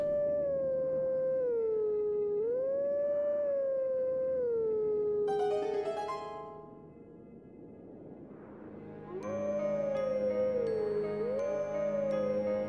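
In Zelda: Twilight Princess, a wolf howls the Song of Healing in a long melodic tone. A short chime interrupts it, then a quieter stretch follows, and a second howl phrase returns over a sparkling game music backing.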